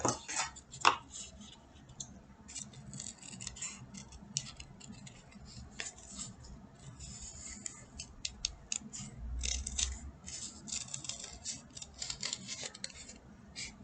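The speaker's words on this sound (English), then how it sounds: "I'm going to do some cutting out now." Scissors cutting through cardboard for a cardboard snail craft: a steady run of quick, crisp snips and rustling paper-board sounds, close up and continuous throughout, with no talking.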